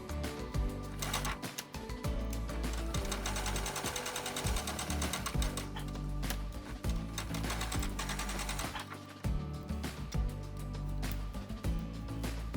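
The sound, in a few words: sewing machine stitching quilt squares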